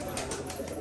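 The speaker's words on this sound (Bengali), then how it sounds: "তো এই যে পায়রা দুটো বেরিয়ে যাচ্ছে আস্তে আস্তে।" Pigeons cooing softly indoors as a pair walks slowly out of the room, a steady low murmur running through the brief moment with no speech.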